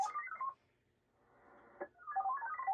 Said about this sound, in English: You can hear the transmitted signal as I try to connect.